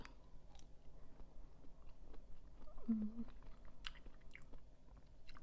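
Someone eats a ripe apple mango with soft, wet chewing and a few faint bites up close, quiet and intermittent, with a low background hum.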